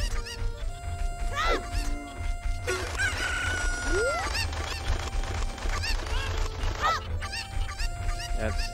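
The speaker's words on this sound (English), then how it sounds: "There's a side quest on catching and bringing these chickens" Chickens in The Legend of Zelda Ocarina of Time squawk, cluck and crow repeatedly over a busy game soundtrack, with several shrill calls rising and falling throughout.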